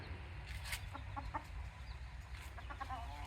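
Chickens and a rooster cluck in a farmyard among peacocks and cats, a few short clucks scattered over a steady low background hum, fairly faint and without talk.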